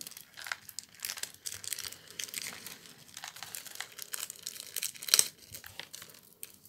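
Crinkly plastic rustling and tearing as a small sachet is opened, close up, with a sharper rip near the end; no talking.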